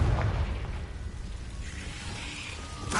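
Confringo blasting spell from Hogwarts Legacy going off as a loud, rumbling explosive boom at the start, followed by a dense roar that fades out with a brief whooshing rise near the end.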